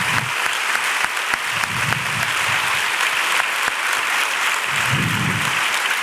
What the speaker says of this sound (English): So I would just like us to give a round of applause to her for...